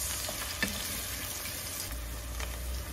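Soft stirring and sizzling in a cooking pot while making lentil soup with zucchini and potatoes, a faint steady crackle with a small clink of the spoon, close and quiet.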